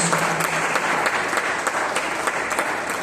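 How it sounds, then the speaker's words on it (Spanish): A church congregation applauds steadily during a Sunday service, a dense wash of many hands clapping at close range with no voices over it. "En el nombre glorioso de Cristo Jesús, la iglesia le da un fuerte aplauso a Dios por la vida de nuestros hijos"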